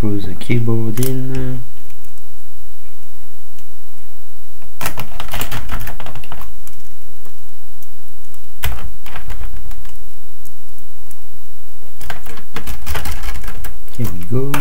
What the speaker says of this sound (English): let's screw the keyboard in.